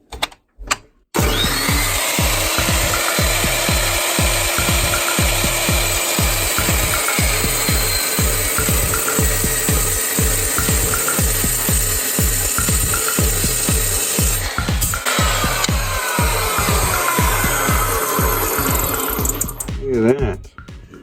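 A Fein Slugger power tool cuts through aluminum stock in a garage with a loud, steady run of rhythmic rasping pulses that lasts nearly twenty seconds before it stops.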